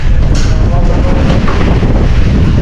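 Strong storm wind during a typhoon roars and buffets the microphone, a loud, continuous rush that fills the whole clip.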